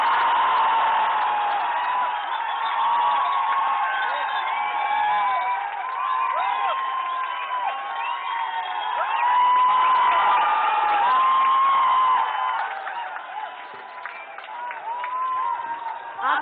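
A large audience at the Sahitya Aaj Tak 2017 poetry gathering (kavi sammelan) welcomes poet Kumar Vishwas with sustained applause, cheers and whoops, a loud, rolling crowd roar that swells midway and eases near the end.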